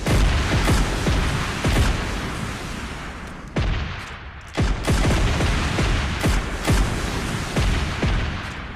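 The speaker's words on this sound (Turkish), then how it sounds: "Buradan güzel yürekli arkadaşlara bir bomba atalım." A grenade is thrown in the mobile shooter PUBG Mobile Lite amid loud, dense game gunfire and booming blasts, sharp repeated shots over a constant rumble with no clear voice.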